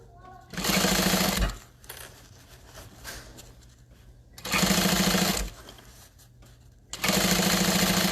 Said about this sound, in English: I'm sewing from the inside of the bag.